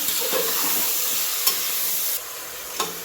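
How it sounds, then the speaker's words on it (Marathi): Chicken stirred with turmeric and salt in a frying pan, a steady loud sizzle with occasional scraping knocks of the spoon, the frying dropping slightly in level toward the end. "आता ह्याला चांगलं असं मिक्स करून घेऊया"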